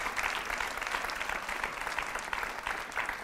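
Audience clapping steadily at a gala, a dense, continuous wash of many hands that holds at even loudness throughout with no break.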